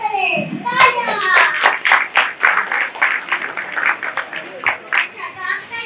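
Studio audience clapping on a children's quiz show, a dense burst of hand claps running steadily throughout, with children's voices mixed in near the start.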